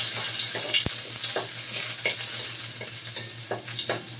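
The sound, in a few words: garlic sautéing in a pan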